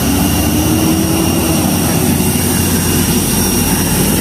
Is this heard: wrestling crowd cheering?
no